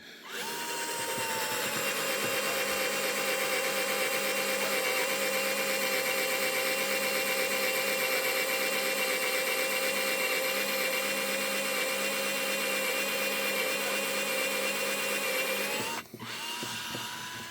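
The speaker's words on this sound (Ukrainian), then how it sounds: "набагато легше свердлити" A power drill whines continuously at a steady high pitch for about sixteen seconds, close and loud, before briefly stopping.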